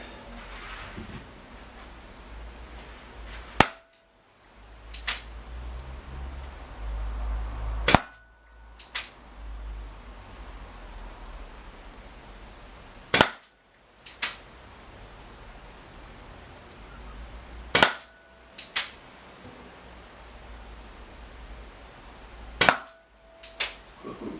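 Tokyo Marui M66 airsoft gas revolver fired indoors at a sticking target about 15 feet away, giving six sharp, loud cracks spaced several seconds apart over a low background hiss.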